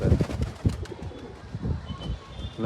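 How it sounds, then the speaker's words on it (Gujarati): Pigeons coo repeatedly at close range while bathing, soft throaty rolling calls in a loose rhythm with wing flutters and shuffling around them. "નાવા દે બધા કબૂતર."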